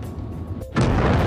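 A tank gun fires at the player in a T110E5 tank battle game, a single heavy boom that cuts into a loud sustained rumble after a brief dip.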